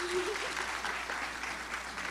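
Audience applause at a freshmen orientation welcome event, a steady wash of clapping throughout with faint voices and a brief whoop mixed in.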